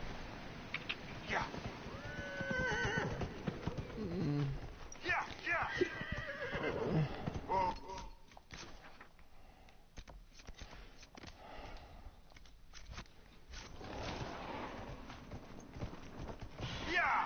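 In a video game, a horse whinnies loudly several times while hooves clop and shuffle nearby, with a brief quieter stretch before more movement sounds return.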